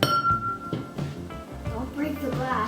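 Glass clinking and tapping, a few light chinks and pings while setting up a lava-lamp experiment with baking soda, cooking oil, colored vinegar and a glass, mixed with talking and music.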